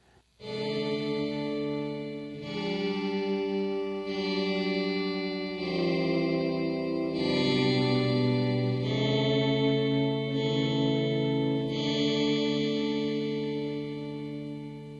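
Sustained guitar chords that glide smoothly from one to the next through an Electro-Harmonix HOG, thickened by a synth-like octave layer with a sliding pitch, continuous and fairly loud.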